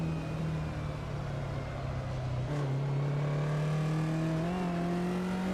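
A Porsche race car engine in a vintage GT racing video game drones steadily, then shifts pitch and climbs again as it pulls alongside, loud and continuous with no talking.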